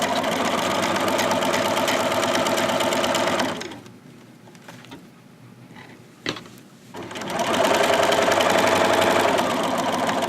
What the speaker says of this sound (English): I'm going to sew, really make sure you backstitch at this top part